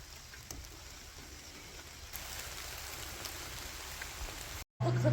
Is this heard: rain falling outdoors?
yes